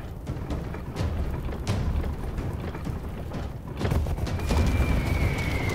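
A Hwacha arrow launcher in Conqueror's Blade fires, a dense rumbling volley of launches and thuds rolling through a noisy battlefield, growing heavier toward the end.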